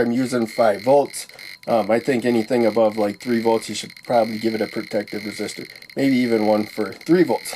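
A steady thin electronic tone from a 5-volt astable 555 timer circuit with a light dependent resistor and flashing LEDs hums faintly and continuously behind a man's nearby, almost constant talking.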